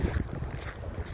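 Wind buffets the microphone while someone walks home alone outdoors after work on a cold day: a steady, low rumbling roar with soft gust swells throughout and no voices.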